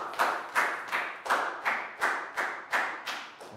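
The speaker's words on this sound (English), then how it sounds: "High five and a big round of applause for Pangpon" A classroom of pupils clapping together for a classmate, about ten evenly spaced, loud, close claps in a steady rhythm with no talking.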